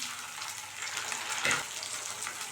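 Onion, curry leaves and chopped tomato fry in a pan for okra kuzhambu, giving a steady close sizzle with a brief louder burst of stirring near the middle.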